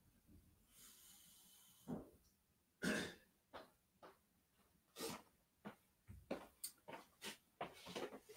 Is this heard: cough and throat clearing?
yes